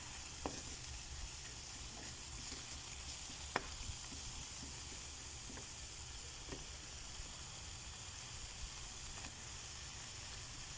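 Vegetables sautéing in a pan with garlic and onion give a steady close sizzle and hiss, broken by occasional sharp crackles and pops, with no voices.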